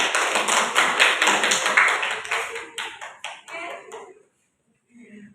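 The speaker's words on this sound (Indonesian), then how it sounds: "beri aplaus untuk kelompok tiga" Classroom applause for a student group, a burst of rhythmic hand clapping that fades out after about four seconds, followed by near silence with a little voice.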